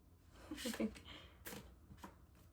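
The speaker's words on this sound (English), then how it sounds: "Of course, shuffle, shuffle, shuffle." Playing cards riffle and snap in a few quick bursts, close up, with faint talking in the background.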